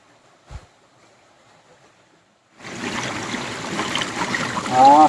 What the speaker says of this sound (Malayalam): അവിടെ ഇവിടെയൊക്കെ സ്ട്രീംസൊക്കെ ഇങ്ങനെ കാണാൻ പറ്റുന്നുണ്ട്.